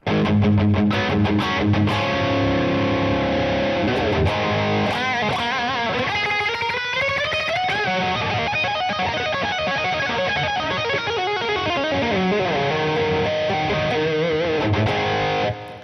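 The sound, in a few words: electric guitar through Helix amp, 808 distortion pedal toggled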